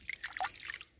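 Water trickles and drips on a farm, a quick run of small, bright, irregular splashes and gurgles heard up close for about a second.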